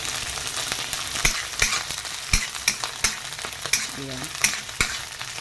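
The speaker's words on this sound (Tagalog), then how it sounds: "So, next nating pinirito guys ay ang ating tinapa." Smoked tinapa fish frying in a pan, a steady soft sizzle and crackle with sharp spitting pops every half second or so, close up and fairly quiet; a voice speaks briefly.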